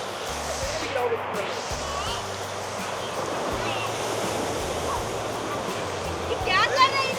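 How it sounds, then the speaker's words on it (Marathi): Rough, stormy sea surf breaking along an Andaman Islands shore, a steady close roar of churning waves with wind buffeting the microphone and voices talking faintly over it. "समुद्र भरपूर तुफान आहे समुद्रामध्ये. करंट जास्त आहे."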